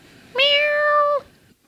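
A person imitates a cat's meow on a games-talk podcast, one clear, drawn-out, slightly falling vocal meow lasting under a second, close and loud over a quiet background.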